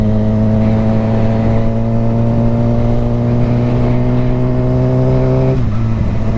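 A car engine revs steadily with a strong harmonic drone that climbs slightly in pitch while driving, then drops abruptly near the end as the driver eases off, loud and continuous throughout.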